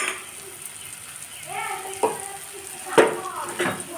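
Tomato masala frying in a pan with turmeric and Kashmiri chilli for chana masala, a low steady sizzle broken by a few scraping stirs near the middle and end.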